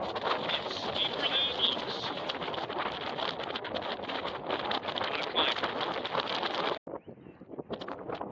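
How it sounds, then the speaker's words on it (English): Stiff wind in the White River Badlands buffets the microphone with a loud, continuous roar that drops out briefly near the end. "So we're out hunting in a pretty stiff wind out here in the Badlands."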